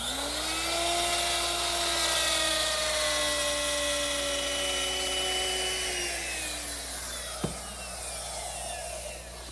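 A router fitted with a top-bearing straight bit cuts a template cutout while building a butler's table, giving a loud, steady high-pitched whine that sags slightly under load and ends with a sharp click near the end.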